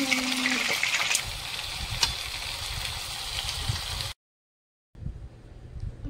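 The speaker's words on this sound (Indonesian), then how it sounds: "goreng ikan bawang" Fish and onion frying in a pan give off a steady, dense sizzle that cuts out briefly, then returns more faintly, close by.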